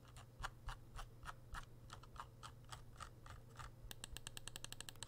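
Scroll wheel of a Razer Viper Mini mouse ticking close up, a quick run of separate clicks that speeds into a dense rapid ratchet near the end, over a steady low hum.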